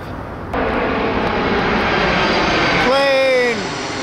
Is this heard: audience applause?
no